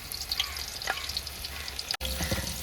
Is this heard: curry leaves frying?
yes